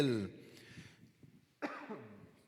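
A man coughs once near the start and again partway through, close and clear, with quiet speech-like sounds between the coughs.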